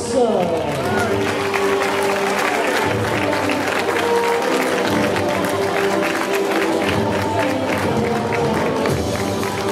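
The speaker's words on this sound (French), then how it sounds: "Sous vos applaudissements." A crowd applauds a second-place winner called to the podium at a prize-giving, dense continuous clapping and cheering under an announcer's amplified voice.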